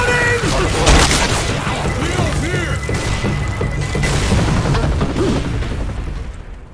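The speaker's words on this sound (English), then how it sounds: "Grenade!" A grenade explodes in the video game Left 4 Dead 2, a loud boom and crash followed by dense rumbling chaos and rattling impacts, with excited voices talking over it throughout.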